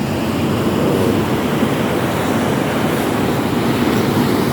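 Rough, muddy sea off a Palawan shore after typhoon flooding, a continuous loud roar of surf breaking with steady wind rush and no pauses.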